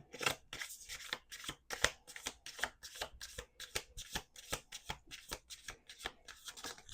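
Playing cards being shuffled close by in a rapid, rhythmic series of crisp riffles and flicks, fairly quiet with no talking.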